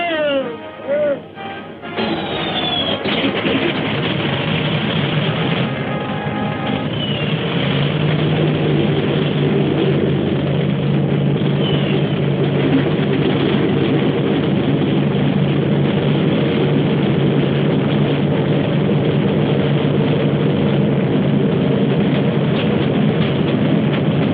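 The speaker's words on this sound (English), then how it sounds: "Start engines." Engines of military combat aircraft start up and settle into a loud, steady propeller drone that holds throughout, with brief voices over the start.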